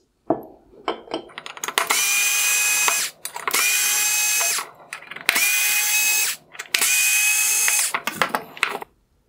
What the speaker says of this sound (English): The plastic lens on the LED drive unit is connected using 4 T10 torx screws.